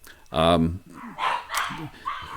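Dogs in a house bark at someone arriving at the door: one loud, close, harmonic bark burst, then softer yips and whines over the next two seconds.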